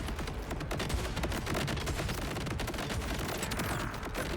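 Video game gunfire, a dense continuous crackle of rapid shots that stays fairly quiet and steady for several seconds, with no voices.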